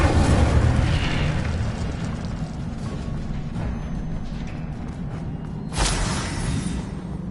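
A fire spell burst cast in a Harry Potter wizarding video game: a loud, dense roaring rush that fills the opening and holds steady, then a second sharp whooshing flare near the end, with no voices.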